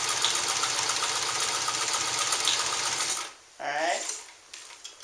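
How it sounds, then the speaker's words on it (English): A Sterling 100 Deluxe sewing machine set to a long stitch length runs steadily through eight layers of heavy canvas, a loud continuous mechanical whir that cuts off near the end, followed by a brief voice. "we're on a long stitch length because a long stitch length for heavy fabric"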